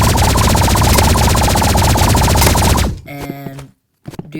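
Rapid, continuous gunfire from energy pistols in the Roblox Rivals shooter game, loud and dense for about three seconds before stopping abruptly, followed by a few brief electronic game tones and a short silence.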